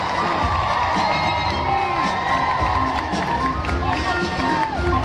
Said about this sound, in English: Cheer him again when he comes near the tunnel.